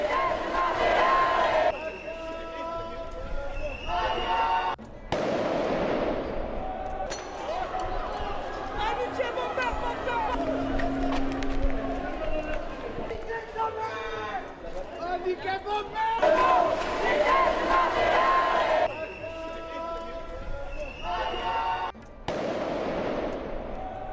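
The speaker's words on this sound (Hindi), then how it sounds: "दंगाई भीड़ के खिलाफ पुलिस के सख्त एक्शन की ये तस्वीर" A rioting crowd clashes with police in France: loud, continuous shouting and roaring from many people, broken by sharp bangs and cracks, with voices rising and falling throughout.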